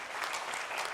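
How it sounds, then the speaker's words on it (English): A brief burst of dense audience applause at a convocation honouring award-winning researchers, steady clapping from a sizeable crowd without voices. "So again, please give them a big applause"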